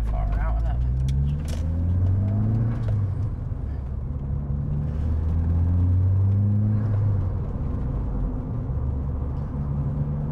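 An MG Maestro Turbo driving on the road, heard from inside the cabin as a constant low engine rumble with shifting pitch, while people talk over it.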